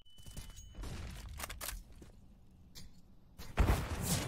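A grenade detonates on Vertigo during a Counter-Strike match, Liquid against Entropiq: scattered gunfire and thumps lead up to one loud, close blast near the end, with its rumble trailing off.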